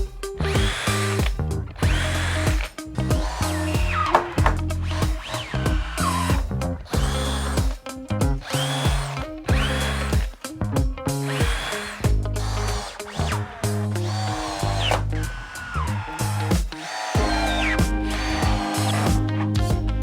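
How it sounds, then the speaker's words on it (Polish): Power drill driving screws into a wooden garden table top, the motor whirring in repeated short bursts that start and stop, close and loud, with no talking. "Wkręty i skręcamy."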